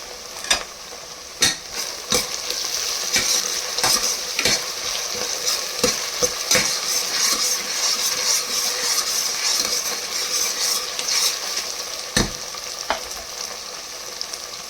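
Chopped tomato sizzling steadily in a hot pan for menthya ricebath, with repeated scraping and clinking strokes of a stirring spoon over the constant fry, close and loud.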